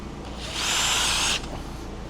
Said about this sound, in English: where I get to go put screws everywhere